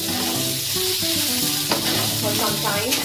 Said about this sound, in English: I little bit saute the mushroom